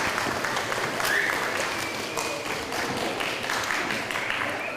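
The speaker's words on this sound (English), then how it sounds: "A round of applause for these two." A lecture audience claps in a steady, dense round of applause that fills the room, at moderate level and without any speech over it.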